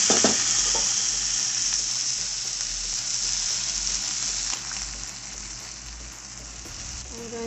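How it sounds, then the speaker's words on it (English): Garlic, tomato, corn and green onions sauteing in a pan, a steady loud sizzle and crackle of frying that runs without a break, easing slightly toward the end, with no voices. "saute this garlic and tomato. I'm also just going to go ahead and add the corn too."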